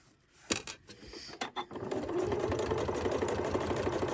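A sewing machine stitches a lined zipper pouch, starting with a few short separate bursts, then running in a steady continuous whir up close.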